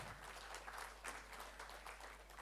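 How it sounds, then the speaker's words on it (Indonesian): Applause from a seminar audience at a corporate talk on digital competency, a dense, even patter of many hands sustained for a couple of seconds, fairly faint and distant. "Wow, boleh beri tepuk tangan."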